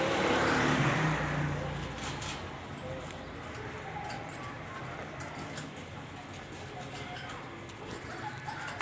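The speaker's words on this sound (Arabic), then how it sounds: "الحمام كله بتاع النهارده عصبي والله" Pigeons coo amid a busy background murmur, with people talking throughout and faint clattering noises.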